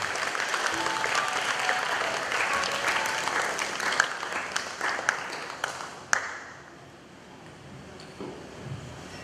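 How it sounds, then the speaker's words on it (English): Audience applause rings out for graduates at a 2020 Catholic high school graduation ceremony, sustained clapping with a few sharper claps that fades out near the end, leaving quiet room sound. "let's give all the graduates a big round of applause."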